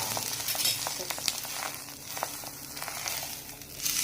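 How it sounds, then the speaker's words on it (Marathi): Rice bhakri cooking on a hot pan as it is flipped, giving a steady soft sizzle and crackle with a few sharper scraping and crinkling bursts, close up and with no talk. "तर आपण या भाकरीला पलटवूया."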